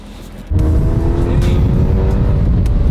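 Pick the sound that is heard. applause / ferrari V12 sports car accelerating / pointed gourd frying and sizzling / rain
ferrari V12 sports car accelerating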